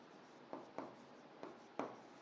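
Marker or chalk writing on a board during a Class 9 maths lesson on number systems: four short scratchy strokes with gaps between them, close and fairly quiet, with no talking.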